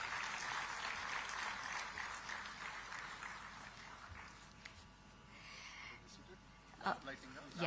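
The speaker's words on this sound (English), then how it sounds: "let's give all our speakers another round of warm applause" An audience applauds the speakers at a digital technology summit in Visakhapatnam. The clapping is steady and moderately loud, then gradually thins out.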